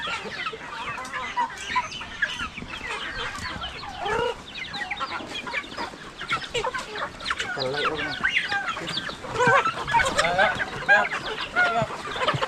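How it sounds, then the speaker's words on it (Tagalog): Chickens on a backyard farm cluck and squawk in a busy, overlapping chorus, with the odd rooster call among them, fairly close, while people talk at times in the background. "manok lang yung matira dito."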